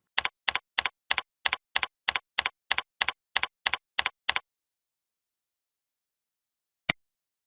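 Typing on a computer keyboard: a quick, even run of about a dozen crisp key clicks, close and clear, then a pause and a single final keystroke.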